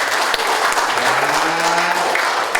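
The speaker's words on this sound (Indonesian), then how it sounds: "Tepuk tangan loh" An audience at a business seminar breaks into dense, sustained applause, loud and even throughout, with a faint tonal hum running underneath the clapping.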